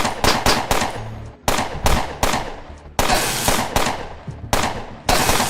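Security auto turrets firing in a video game, loud rapid bursts of automatic gunfire in repeated volleys with short gaps, each burst trailing into a ringing decay, and no talk.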